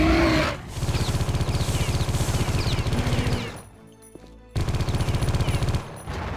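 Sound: gunfire in a shooter video game

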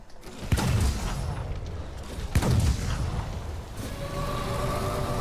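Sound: video game bomb exploding

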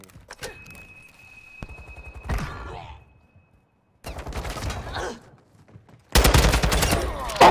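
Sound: gunfire from a sniper in a video game

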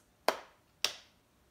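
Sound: hands clapping twice

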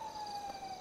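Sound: ambulance siren in the video game GTA

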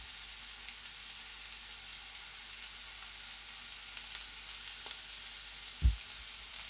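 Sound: mutton pieces frying in oil

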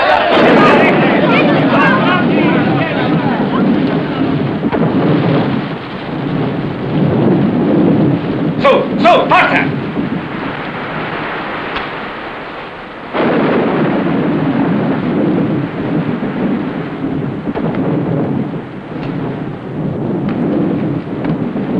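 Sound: rain storm with thunder

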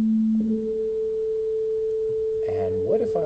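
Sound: delay line pitch shift dropping tone by an octave

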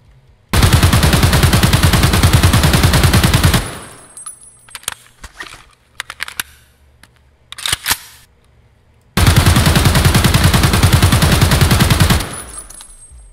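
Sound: AK-105 rifle gunfire in video game Escape From Tarkov

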